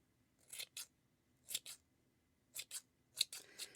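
Scissors snip close up while trimming a crochet yarn pom-pom, crisp double cuts in four small clusters at a steady pace, quiet and isolated with no voices.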